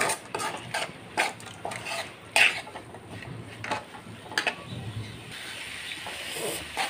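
Prawns and masala for a Kerala-style prawn roast are stirred in a pan, a spoon repeatedly scraping and clinking against the metal over a soft sizzling hiss, close and irregular, with no talking.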